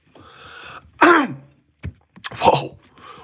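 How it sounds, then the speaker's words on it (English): Two short, rough throat clearings close by, separated by a brief pause, with a quiet hum before them and no speech. "Clearing my throat."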